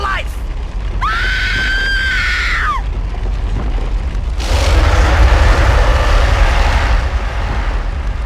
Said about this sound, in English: Scream, Ann! Scream for your life!